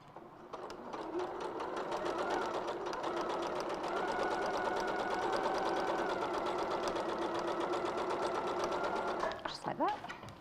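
Sewing machine stitching quilt pieces, a steady fast mechanical whir and needle rattle running nearly the whole time before stopping, with people talking over it.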